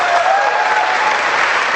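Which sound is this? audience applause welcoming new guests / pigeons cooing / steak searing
audience applause welcoming new guests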